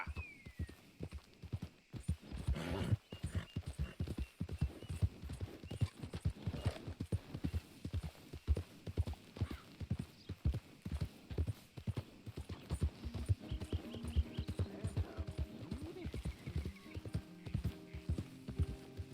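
Horse hooves clip-clop steadily in Red Dead Redemption 2, a close, even trotting rhythm that runs throughout with a brief whinny near the start, under light game ambience and faint tonal music.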